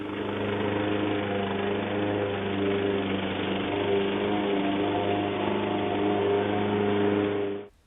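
A lawn mower set to a low cutting height runs steadily through grass during a lawn renovation, a loud constant engine drone with a low hum that cuts off abruptly at the end, no voices.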